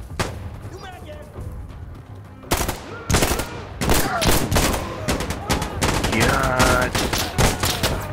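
Insurgency Sandstorm combat brings dense gunfire, with sharp single shots and rapid machine-gun bursts close by, plus booming reports, while a voice talks briefly between the shots.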